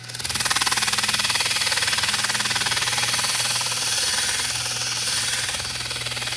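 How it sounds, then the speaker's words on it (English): A 1979 Lakewood P-237 motor runs steadily on high while sanding a shaft, giving a loud, continuous buzzing drone with a strong hum that holds unbroken from start to end, up close and with no talking. "Put the motor on high."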